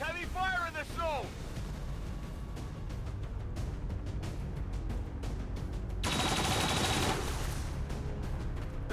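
Heavy gunfire in the XCOM 2 strategy game: a dense stretch of rapid shots and impacts rolls on throughout, swelling into a loud, sustained burst near the end, with a brief game voice at the start.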